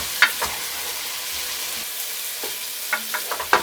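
Garlic sizzles and frying in a pot with pork and leeks, stirred with a few sharp scrapes and clicks of a utensil over a steady background hiss of hot oil.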